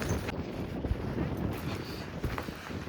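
Strong wind buffets the microphone at Dhumba Lake, a continuous loud rushing roar with gusty swells throughout and no voices.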